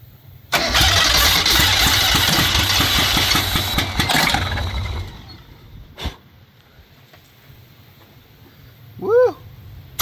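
A Mazda car engine cranks and catches, running loud and rough for several seconds outdoors in wind, then dropping to a quieter idle, with a brief thump and a short whistle-like tone near the end.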